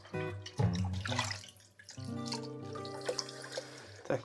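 Tap water runs into a sink while meat is rinsed beneath it, splashing in uneven bursts and pausing briefly midway, with low hum from the kitchen underneath.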